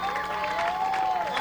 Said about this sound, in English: Warrior fans stand and applaud the 40-22 score